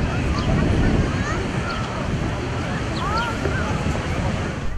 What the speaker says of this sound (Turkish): Zira Poyraz nedeniyle dalgaların yüksekliği 1 metreye kadar ulaşabiliyor